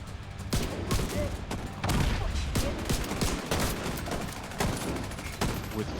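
Heavy shotgun blasts from an enemy in the video game The Division 2 boom at irregular intervals over a dense, continuous wash of battle noise, loud and close.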